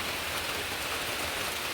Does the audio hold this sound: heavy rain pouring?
yes